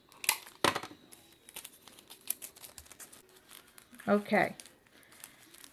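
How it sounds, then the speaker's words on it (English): Tape pulled from a roll and pressed onto a paper towel face mask, sharp crinkling tears and rustles in short bursts, close and fairly quiet, with a voice briefly speaking. "get a nice long piece of tape"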